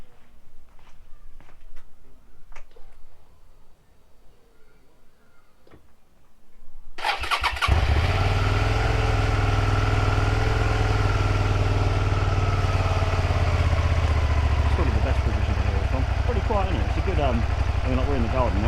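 A Suzuki SV650 S motorcycle fitted with a new exhaust fires up in a garden after several seconds of quiet, catching abruptly and settling into a loud, steady, throbbing idle that runs to the end.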